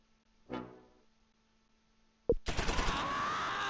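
Gunfire in the World War II strategy game Close Combat IV, set in December 1944: a low horn-like tone first, then a sharp crack followed by rapid, rattling machine-gun bursts that continue steadily to the end.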